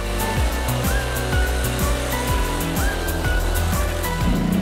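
ZID Barkhan off-road vehicle on low-pressure balloon tires rolling over a hard-surfaced, non-asphalt road, a loud continuous engine roar with rhythmic rising and falling tonal sweeps repeating throughout, with no speech.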